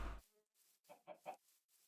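Chickens cluck in the Minecraft video game, three short, quiet clucks in a row after a brief burst of noise at the start.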